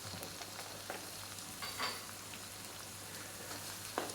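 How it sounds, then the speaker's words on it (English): Olives and capers sizzling in hot oil in a pan while being stirred, a soft steady crackle with a few spoon scrapes and clicks, quiet and close with no voices. "we're just going to add our olives and our capers into the mix and just start to stir that through"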